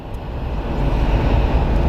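A Boeing 767 airliner taxis out at Phoenix Sky Harbor, giving a loud, broad engine roar that swells slightly and holds steady throughout the short stretch.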